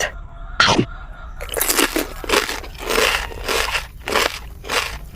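Loud, close crunching bites into crispy garlic pepper fried beef, a sharp first crunch followed by a run of repeated crackly chews.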